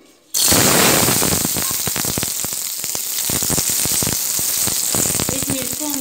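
Chillies sizzle in a teaspoon of hot oil in a small pan, a loud steady crackle with sharp popping bursts throughout, starting abruptly as they hit the oil.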